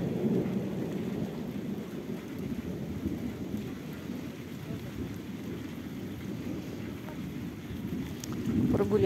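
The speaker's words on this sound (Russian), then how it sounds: "Громыхает." Thunder rumbling through a tropical downpour in the Moscow region: a low, continuous roll that stays faint and distant under a steady wash of heavy rain, with no talking.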